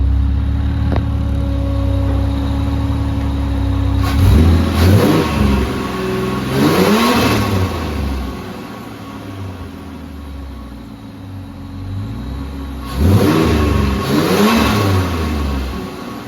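A Barra-engined Nissan Patrol fitted with a bigger turbo, revved repeatedly to about 3,000 rpm from a cold idle: three loud, close rev bursts that each rise and fall back to a steady idle, with no talk.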